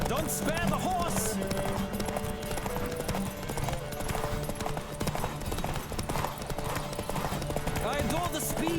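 Racing horses in The Witcher 3 video game drum out a rapid, unbroken clip-clop gallop, loud and near, with occasional whinnies and people talking over the hoofbeats.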